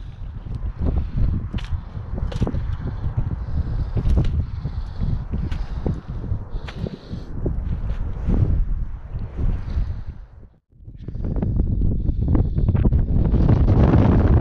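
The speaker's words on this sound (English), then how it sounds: "Sorry it's windy if you guys can't hear." Strong outdoor wind buffets the microphone on a riverbank during mink and muskrat trapping, loud rumbling gusts that rise and fall, briefly drop out, then surge back even harder.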